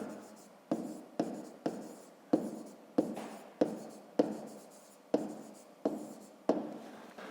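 Pen strokes on paper during a 5th-grade maths exercise, about ten distinct scratchy bursts in a steady rhythm, each a sharp onset fading quickly, close and fairly faint with no talk.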